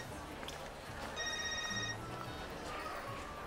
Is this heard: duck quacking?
no